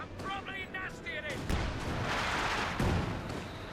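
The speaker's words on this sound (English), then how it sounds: "Artillery fire flying away there" Company of Heroes 2 battle with repeated artillery booms and gunfire thudding under a fast-talking commentator, the blasts landing as heavy bursts partway through the short stretch.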